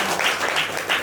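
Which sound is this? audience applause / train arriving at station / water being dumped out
audience applause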